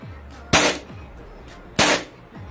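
Two sharp shots from a silver WE M92 Beretta gas airsoft pistol fired at a target, each a crisp crack with a short tail, spaced about a second apart over a quiet background.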